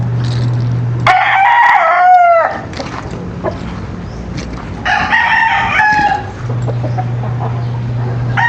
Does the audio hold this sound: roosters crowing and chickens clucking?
yes